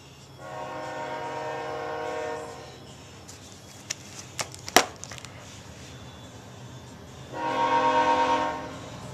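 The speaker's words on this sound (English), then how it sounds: "Sorry about the train going by" A passing train sounds long horn blasts, first a sustained chord, then a quieter stretch with a few sharp clanks, then the horn swelling again loudly near the end over a steady rumble.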